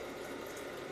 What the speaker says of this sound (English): I'm going to give you some more water.